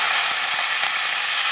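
Curry leaves tossed into hot oil for tempering while making vangibath, a loud, dense, steady crackling sizzle with no pauses and no voices.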